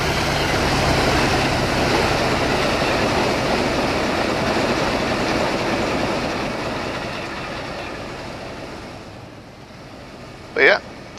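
Amtrak Metroliner train in the Trainz simulator rumbles steadily with a broad rolling roar that slowly fades, ending with a short loud horn-like burst near the close; a voice talks faintly over it.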